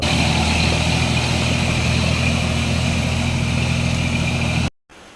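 A tractor works a paddy field during rice planting, its engine droning in a loud, steady, unbroken run close by. The sound cuts off abruptly near the end.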